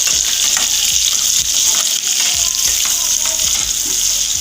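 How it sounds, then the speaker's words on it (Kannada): Curry leaves fry in hot oil in a pan for Andhra-style chilli chicken, giving a loud, continuous crackling sizzle with faint stirring scrapes beneath it. "ನಂತರ ಕರಿಬೇವು ಸೊಪ್ಪು, ಮತ್ತು ಇದು ಒಂದು 5 ನಿಮಿಷ ಇದರಲ್ಲೇ ಫ್ರೈ ಆಗಬೇಕು."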